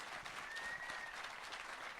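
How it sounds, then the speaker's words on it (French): Faint crowd applause greets a guest at an outdoor village television show in Saint-Trivier-de-Courtes. The clapping is a continuous, even patter that sounds distant and soft and fills the whole two seconds. "On peut l'applaudir bien fort s'il vous plaît"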